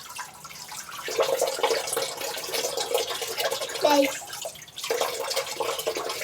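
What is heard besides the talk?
tap water running while washing dishes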